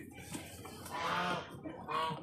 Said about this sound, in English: But I knew I had to feed the chickens.